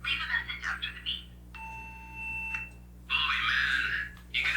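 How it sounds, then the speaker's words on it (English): A single steady electronic voicemail beep, a clean sustained tone lasting about a second, following an automated prison-call recording; louder, muffled background voices sit before and after it. "Leave a message after the beep."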